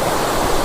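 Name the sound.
large waterfall, Catherine Falls, Kotagiri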